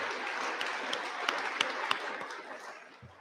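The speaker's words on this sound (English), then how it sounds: "Let's give all our competitors and cadre another round of applause for a job well done." Quiet, steady applause from an audience at a military skills competition awards ceremony, with a few sharper nearby claps standing out before it gradually thins and fades.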